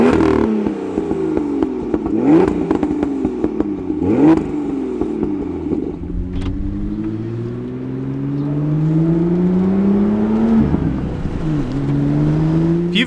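A manual Long Beach Blue F87 BMW M2 driving, its engine revving up through gears with rising and falling pitch sweeps, gear-change dips and a steady drone, heard close from inside the car with no talking.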